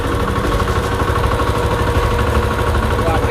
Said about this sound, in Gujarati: કેટલું ટ્રેક્ટર ચાલે, કેવી રીતે ચાલે તે તમને બતાવો.